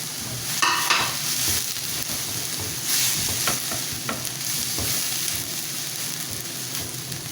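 Crushed garlic and green chili tipped into onions frying in a pan set off loud, close sizzling with stirring scrapes and a few clatters, with no speech.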